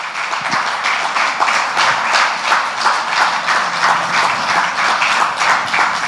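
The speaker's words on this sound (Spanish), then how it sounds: "Vamos a darle un aplauso a los padres." Church congregation applauding the parents, a dense, steady clatter of many hands clapping together, moderately loud and continuous.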